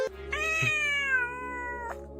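A domestic cat meows indoors in two drawn-out, rising-and-falling calls, close and clear, with a quiet room behind and no talking.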